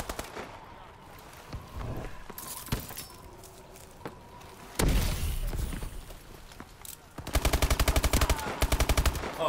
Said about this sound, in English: How many times do I have to shoot these guys?